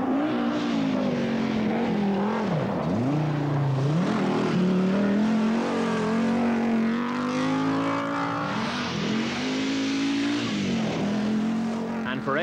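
An Audi Quattro rally car at the 1987 Rally of Sweden, its engine droning loud and close with pitch rising and dipping through gear changes and revs, under continuous commentary.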